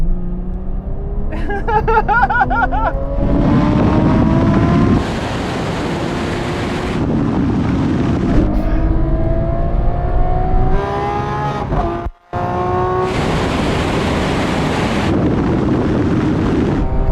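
Lamborghini Aventador SVJ, Ferrari 812 Superfast and Porsche Turbo S in a rolling drag race from 50 mph, engines roaring and rising through gear changes under heavy wind rush, loud and close from inside a car.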